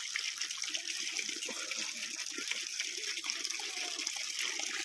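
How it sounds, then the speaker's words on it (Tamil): Water gushes steadily from a household pipe, a continuous broad hissing splash, close and even throughout with no voices. "இங்கே பாருங்கள், எங்கள் வீட்டு பைப்பில் தண்ணி வருதா?"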